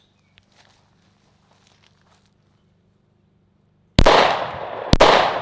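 Two sharp, loud gunshots crack out close together near the end, each with a ringing decay, aimed at a 60 inch LED TV with Full Metal Jacket rounds. They follow a near-silent stretch with faint shuffling and a single spoken word.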